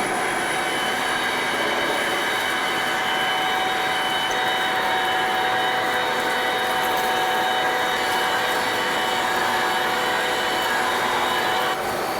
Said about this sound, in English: we're gonna step up to 250 RPMs